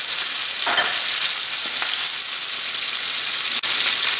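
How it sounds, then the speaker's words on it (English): A garlic-stuffed beef pot roast sears in hot grease in a pan, a loud, continuous crackling sizzle with occasional pops, close up and without talk. "we're just going to put a nice sear on this roast and let this go a couple minutes on this side"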